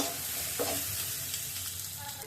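Bottle gourd peel bhaji frying in a little oil in a pan, stirred with a spatula: steady close sizzle with a brief scrape of the utensil early on, no voices.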